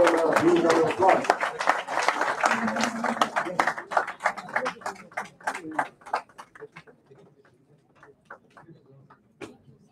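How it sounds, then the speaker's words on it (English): An audience at a prize distribution ceremony breaks into dense applause that gradually thins into scattered individual claps and fades toward the end. "give them a huge round of applause."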